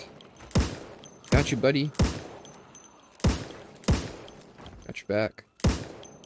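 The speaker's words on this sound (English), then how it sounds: "So let's have a couple shots." Gunfire from a firearm in the zombie survival game Project Zomboid: several sharp, loud shots spaced irregularly across the stretch, with people talking between the bursts.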